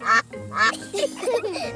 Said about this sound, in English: It is a duck-billed platypus.